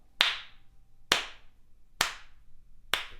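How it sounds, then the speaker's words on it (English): Four evenly spaced hand claps mark a steady pulse about once per second, sharp and close with short ringing tails, with nothing else audible between them. "if you were clapping the main beat. You would clap."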